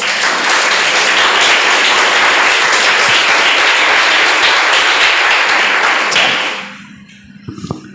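Loud, dense applause from a large church congregation, a steady roar of many hands clapping that holds for about six seconds, then fades out into a few scattered claps.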